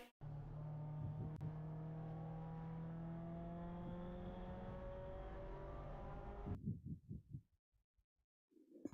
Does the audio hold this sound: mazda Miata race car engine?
yes